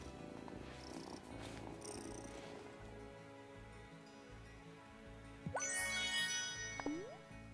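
A cat being stroked in the video game Wylde Flowers purrs steadily as a low rumble under game music, joined near the end by bright chiming sound effects.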